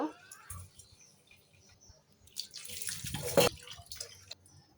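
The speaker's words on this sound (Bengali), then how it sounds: "এখন এই চিংড়ি মাছ কটা ধুয়ে নেব।" Prawns being rinsed under a kitchen tap, with faint splashing and trickling water, soft handling clatter, and a louder burst of running water and rubbing near the end.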